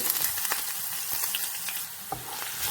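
Cumin, garlic and ginger fry in oil in a pan for a Kerala yogurt curry, a dense continuous sizzle with small crackles and a soft stir.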